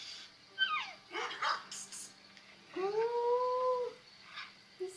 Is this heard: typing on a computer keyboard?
no